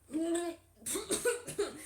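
A voice imitates a few raspy, sputtering coughs, short bursts in quick succession after a brief vocal sound, close and fairly loud.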